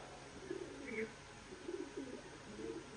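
A big male tournament racing pigeon coos softly in a few low, throaty bursts, close by, with someone talking in Bengali over it.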